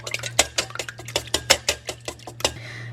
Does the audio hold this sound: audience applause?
no